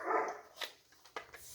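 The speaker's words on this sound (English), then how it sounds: "I'm going to give my other dog something to make him stop." An indoor dog gives a few short barks and yips, with one sharper bark and a brief whimper, moderately close with no talk.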